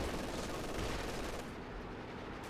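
An MG42 machine gun rattles in Company of Heroes 2, a dense continuous burst of gunfire mixed into battle noise at moderate distance, fading slightly toward the end.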